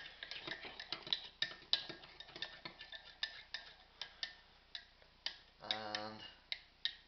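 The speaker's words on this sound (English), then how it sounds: "Give it a stir. Mix everything together." A spoon stirs a cup of coffee, clinking against the ceramic in quick, light, close ticks with irregular rhythm and a brief rattling swirl partway through.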